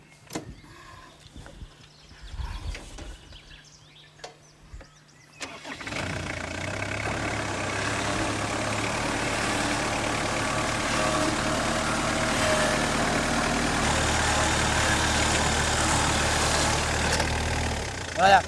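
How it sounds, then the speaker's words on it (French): A 4x4 vehicle engine cranks and restarts after a few seconds of quiet handling noises, then settles into a steady, loud, close idle that runs to the end, with no talking. "Voilà, on redémarre le moteur."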